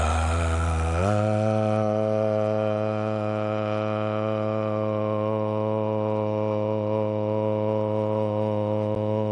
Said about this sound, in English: you can join me for the vibration of Om